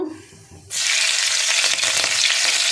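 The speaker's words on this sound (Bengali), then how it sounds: "এবার একটু কাঁচা লঙ্কা দিয়ে দেব।" Green chillies dropped into a hot oiled pan for a vegetarian dish, bursting into a loud, close, continuous sizzle of frying after a brief quiet moment.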